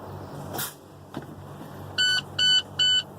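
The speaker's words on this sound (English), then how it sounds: "You can hear the test for the low air warning buzzer" A truck's low air warning buzzer sounds in three steady tonal pulses on startup near the quietly idling truck, after a couple of soft clicks.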